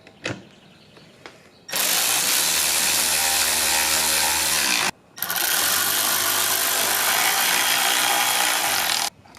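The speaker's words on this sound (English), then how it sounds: "Now next step is to screw it in." A ratchet turns a screw to fasten a side mirror light in place, giving two long stretches of steady, close clicking and rubbing separated by a brief pause.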